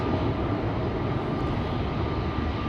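An Airbus A320neo jet at Schiphol Airport produces a constant, loud, broadband engine rumble with a thin steady tone riding above it, unbroken for the whole stretch.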